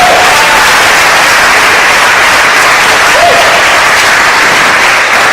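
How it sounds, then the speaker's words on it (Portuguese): A church congregation at a youth camp applauds, a loud dense wash of clapping sustained evenly throughout with no pauses. "Dê uma aplauso ao Senhor."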